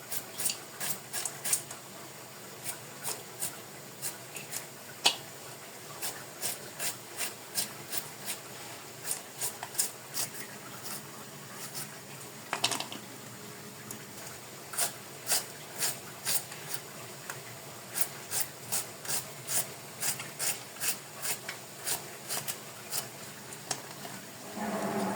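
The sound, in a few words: knife chopping onions and chilies for piyaji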